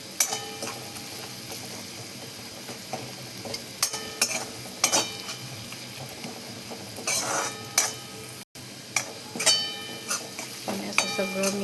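A spoon stirs and mixes dal sambar with drumsticks and sambar masala in a pot, producing repeated close clinks and scrapes against the metal in an uneven rhythm, with soft bubbling underneath.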